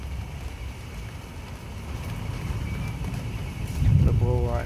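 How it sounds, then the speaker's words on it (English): Steady wind roars and rumbles outdoors in a strong storm in Manchester, building slightly louder toward the end, where a brief higher tonal sound briefly rises above the noise. "Wind's picking up a wee bit more now. Starting to blow."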